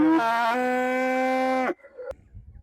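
A cow with rabies bellows in one loud, long, strained moo lasting nearly two seconds, then it breaks off. A brief fainter tone and a short thump follow.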